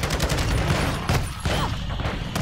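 Dense, continuous automatic gunfire from a torrent gun in a video game, loud and sustained with a brief lull near the middle before the firing resumes.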